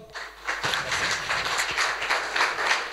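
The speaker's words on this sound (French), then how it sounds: "On peut l'applaudir bien fort" A banking technology workshop audience claps for a speaker, a modest, moderately loud patter of hands from a smallish group lasting a few seconds.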